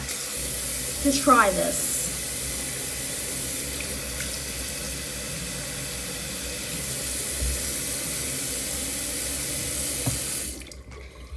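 Tap water pours steadily into a kitchen sink in a loud, continuous hiss that stops abruptly near the end, with a brief spoken phrase early on.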